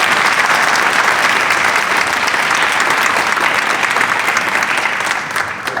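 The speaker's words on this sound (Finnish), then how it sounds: "Kiitokset ja onnittelut stipendin saajille ja aplodit vielä kertaalleen." A crowd at a sports club's 80th anniversary gala applauds scholarship recipients with loud, sustained clapping that tapers slightly at the end.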